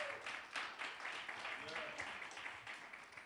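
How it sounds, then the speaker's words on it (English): An audience at a lecture series event claps in a sustained round of applause, faint and somewhat distant, with voices mixed faintly under the clapping. "Another round of applause, please."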